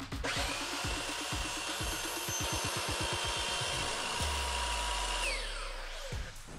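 A power saw cuts a thin poplar offcut at a 45-degree angle, with a dense run of rapid rasping strokes, then a steady motor whine that holds before spinning down, loud and close with no talk.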